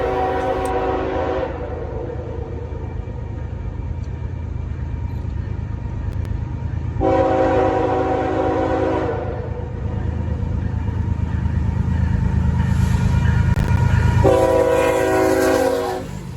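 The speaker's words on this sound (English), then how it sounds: "we see an S265 with 2 BNSF locomotives" A BNSF freight train led by two locomotives rumbles past nearby, its loud, continuous roll of wheels underneath three long horn blasts.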